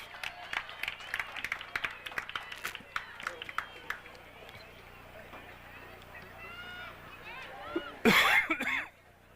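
A sudden loud cough near the microphone near the end, after a stretch of steady talking with footsteps and a distant crowd at a high school girls' varsity soccer game.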